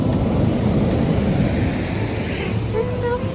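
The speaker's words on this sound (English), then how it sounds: "The waves are still a little crazy" Rough ocean surf rolls and crashes onto a beach in a steady, dense wash that fills the whole stretch, with wind buffeting the microphone.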